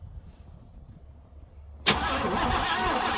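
A 1968 Buick Wildcat with a 430 V8, sitting for ten years, cranking over: quiet rumble, then the starter kicks in abruptly and grinds loudly and steadily until the end.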